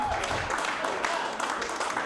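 Audience applause at a stand-up comedy show, a brief burst of scattered clapping from a room of listeners, with speech mixed underneath.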